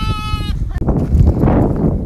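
A baby sheep rescued from coyotes gives a short, clear bleat up close, followed by rustling movement and faint talk outdoors.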